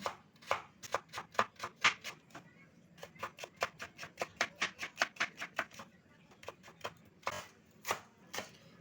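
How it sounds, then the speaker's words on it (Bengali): Carrot chopped into small pieces with a knife on a board: rapid, even rhythmic taps in quick runs, a short pause midway, then more bursts of crisp knocks, close and clear. "তো এখানে গাজরটা একদম ছোট ছোট টুকরো করে নেব।"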